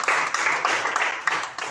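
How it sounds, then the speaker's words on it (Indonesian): A classroom group claps for a fellow student, a short burst of dense, overlapping applause with steady rhythmic hand claps, close and fairly loud, lasting under two seconds. "tepuk tangan buat teman kita"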